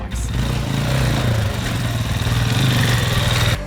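A dirt motorcycle engine runs steadily at a loud, close idle with light blips of throttle, a low harmonic rumble that continues throughout before the bike rides over a log.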